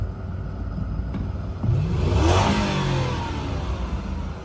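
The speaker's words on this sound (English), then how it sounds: "I'll give y'all a little rev real quick" A 2006 Lexus LS430, fitted with a high-output alternator, is revved once while idling. The engine swells to a loud rise near and then eases back down to idle.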